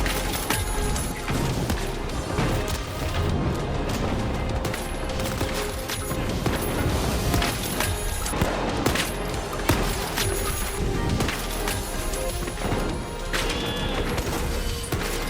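Peacekeeper shotgun fire in the Apex Legends video game, dense rapid gunfire and crashing impacts in a loud, continuous close-quarters firefight with no pauses.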